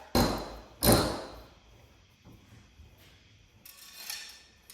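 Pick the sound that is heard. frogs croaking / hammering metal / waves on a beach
hammering metal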